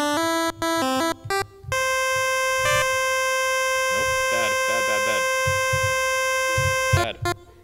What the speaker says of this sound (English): Pulse is what we call a square wave.